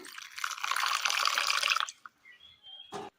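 Water poured into a mixer jar holding grated coconut, cumin, turmeric, curry leaves and bird's eye chilli for grinding a paste: a steady close pour for about two seconds, then a few drips and a short clatter.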